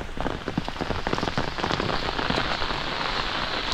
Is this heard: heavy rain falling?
yes